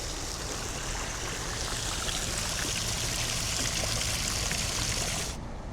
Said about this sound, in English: They've got this nice little water feature